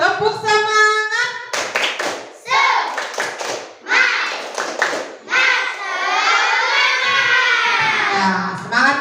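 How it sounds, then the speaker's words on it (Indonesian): Children in a classroom doing the rhythmic 'tepuk semangat' clapping chant, quick bursts of hand claps mixed with sing-song voices chanting along, close and lively. "Coba kita tepuk semangat dulu"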